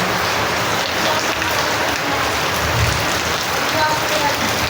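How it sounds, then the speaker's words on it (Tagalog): Heavy rain pounds down in a loud, continuous hiss, close by and steady throughout, with faint traces of a voice beneath the downpour. "Sobrang lakas talaga ng ulan"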